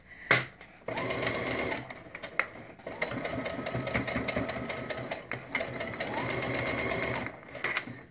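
A domestic sewing machine runs in close, steady bursts as it stitches a fabric pencil case, pausing between runs. It strains slightly over lumps in the work, and a voice speaks in the background.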